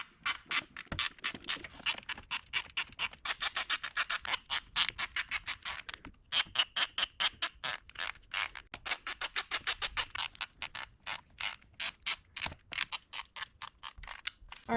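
A ratchet with a Torx socket loosens valve cover bolts on an Audi RS4, giving rapid, evenly spaced clicking in long runs with short pauses between strokes, close and clear with no talking.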